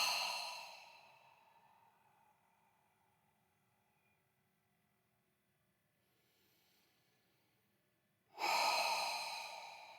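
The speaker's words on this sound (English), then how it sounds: "Deep breath in." A slow, deep breath drawn in during a guided calming exercise, a soft airy inhale that fades into near silence before a second louder rush of breath near the end, close and alone.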